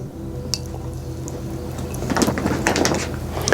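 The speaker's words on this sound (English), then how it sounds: "You're going to pour it in the middle because remember," Liquid is poured into a heat-proof dish, a soft rising gurgle and splash that swells after a quiet, humming start.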